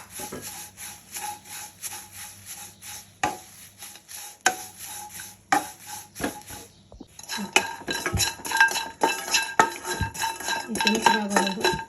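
Dried drumstick leaves are roasted in a pan, with a utensil repeatedly scraping and clattering against the metal in uneven strokes, close and moderately loud, busier toward the end.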